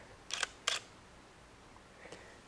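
A Nikea Semi-Pro camera fires at a slow shutter speed, giving two quick, quiet shutter clicks close together and a fainter click a moment later in an otherwise hushed room.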